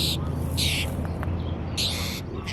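Birds call in short, bright bursts of chirping separated by brief pauses over a low background rumble, fairly close and clear.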